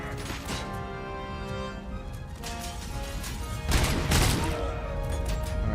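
Gunfire crackles in RoboCop Rogue City, a dense run of shots with sharper, heavier impacts bursting out midway, loud and continuous throughout.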